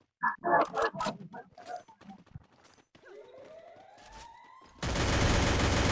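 Free Fire match where a voice chatters at the start, then scattered gunshots and a rising siren-like tone. The passage ends in a loud, sustained roar of heavy, continuous fire.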